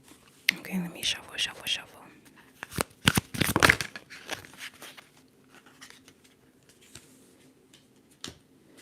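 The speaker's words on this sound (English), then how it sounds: "Okay, let me shuffle." Tarot cards shuffled in a quiet ASMR setting, giving soft papery riffles and flicks, with a few sharper slaps in the middle and faint whispered voice earlier.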